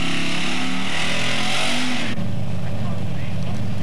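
1970 Olds 442 with a 455 V8 and Ram Air at a drag strip, loud engine roar and exhaust blare that shifts abruptly partway through as the car launches and pulls away, with an announcer talking over it.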